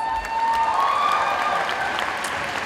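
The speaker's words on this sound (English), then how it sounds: "Can we give them another round of applause?" An audience at an international talent show claps steadily, a dense, even round of applause with a faint tone ringing through it.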